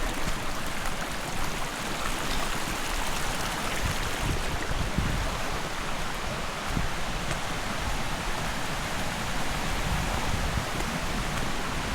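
Swollen, flooded creek rushing loudly in a steady broadband roar that stays constant and close throughout, with no voices over it.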